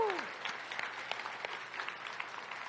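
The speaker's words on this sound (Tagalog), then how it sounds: "Yung pinakamalakas na palakpak kay Jesus." A church congregation applauds during a Kapampangan worship service. The clapping is fairly faint and dense, and a brief whoop rises at the very start.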